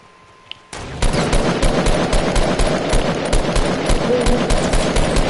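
Rapid automatic gunfire from the video game Fortnite bursts in after a moment of quiet and continues as loud, dense, evenly spaced shots.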